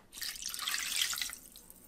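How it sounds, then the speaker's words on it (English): A cup of water pours into the inner pot of an Instant Pot with a short, steady splashing gush that lasts about a second, fairly soft and with no talking. "I think I'm just gonna add another cup of water and turn the unit back on."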